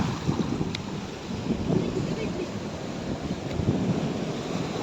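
Sea water rushes and splashes continuously around rocks on a beach shore at Kihim near Alibag, India, with wind buffeting the microphone throughout.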